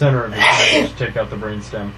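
A single sharp sneeze bursts out early during a conversation, close and loud, with people talking before and after it.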